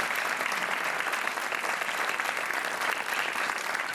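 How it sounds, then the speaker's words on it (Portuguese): A studio audience on a Portuguese television game show claps in a dense, even wash of applause that holds steady throughout, with no talking over it. "E agora um aplauso para a tia Aldina, é a nossa super joker."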